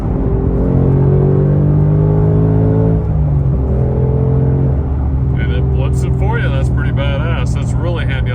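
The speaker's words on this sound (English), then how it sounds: "So let's try this rev matching. I'm going to downshift and not blip the throttle." A 2024 Ford Mustang Dark Horse's exhaust drones loudly from inside the cabin, then drops in pitch through a downshift with rev matching while someone talks over the engine in the later seconds.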